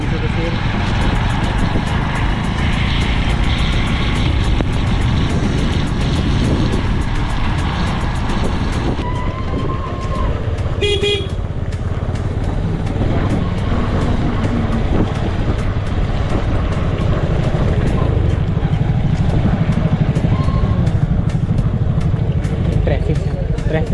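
Vehicles crowd a rural road near the Palgad gate on the Mandangad road, including trucks, one an LPG tanker, with a continuous nearby engine rumble, a brief horn blast midway and someone talking throughout.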